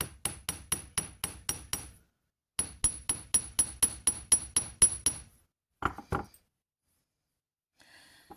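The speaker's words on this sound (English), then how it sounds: "I'm going to just check to see if I want to do any more hammering." Small hammer blows tap a copper twisted wire brooch in two quick rhythmic bursts of about a dozen sharp metallic strikes each, close up, followed by a couple of brief rustles and near silence.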